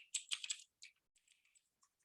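Rapid computer-keyboard typing while working in Autodesk Maya: a quick, dense burst of close keystrokes followed by a few sparse, lighter taps.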